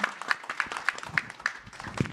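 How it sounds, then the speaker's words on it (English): Audience applause at the close of a panel discussion at a talent summit, a dense patter of many hands clapping steadily for about two seconds at moderate volume. "let's just have one more big round of applause for everyone and for the future that we're going to shape"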